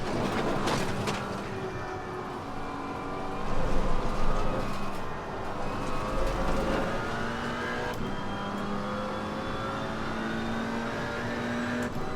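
A McLaren 570S GT4 race car engine in a racing video game at Snetterton drones and revs steadily, with shifting pitch lines as it accelerates, moderately loud and continuous with no talking.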